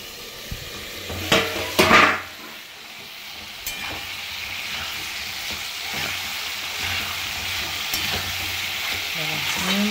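Spice paste of melon seeds, poppy seeds, ginger and green chili frying in a pan, with scraping stirs early on and a steady low sizzle running throughout, close and moderately loud.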